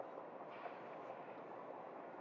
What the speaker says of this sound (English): The train that our microphone's pointed at right now.